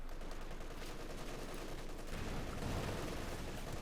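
Dense, continuous small-arms gunfire from paratroops in the World War II strategy game Company of Heroes 2, loud and steady throughout with a heavier low rumble in the last second and a half.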